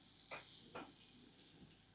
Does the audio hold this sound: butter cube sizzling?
yes